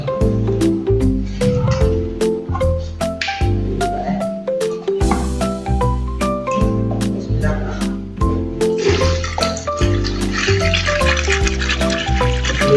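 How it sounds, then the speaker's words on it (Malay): Water is poured into a sweet drink mixture being stirred with sugar, a trickling liquid sound under background music. "itu kita tambah air"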